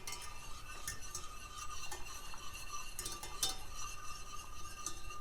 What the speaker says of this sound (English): and then stir this until it dissolves a little bit